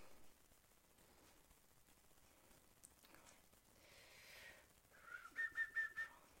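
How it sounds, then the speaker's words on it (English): A person whistles a short tune while concentrating, a few bright, clipped notes near the end, close by and fairly quiet, with no talk over it. "I whistle sometimes when I'm concentrating"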